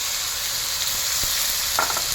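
Ginger paste with spices frying in hot oil, a dense, loud, steady sizzle with a few faint stirring scrapes, no voices.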